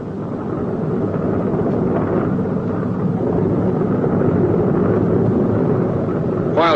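A B-29 bomber taxis out to the runway, its piston engines giving a steady, dense rumbling drone that holds at even loudness throughout, with no voices.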